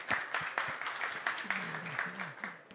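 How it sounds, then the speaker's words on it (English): An audience at a talk on pyrolysis technology claps, a moderate scattered applause of closely spaced hand claps with a faint voice underneath. "Let's start by giving Peder an applause."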